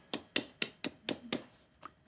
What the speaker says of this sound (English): Listen to the crispy pastry.